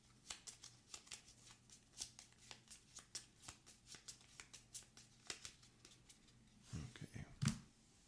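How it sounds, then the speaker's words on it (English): A deck of monster ability cards for the Gloomhaven: Jaws of the Lion board game is shuffled by hand. Quick, soft riffling flicks repeat steadily and close by, ending in a few heavier taps and thuds. "shuffle these up."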